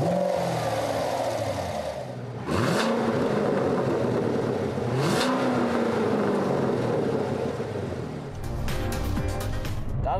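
A Chevrolet Corvette Grand Sport V8 revs hard twice in sharp rising sweeps, then settles into a loud, rough rumble up close, ending in a throbbing, stuttering burble.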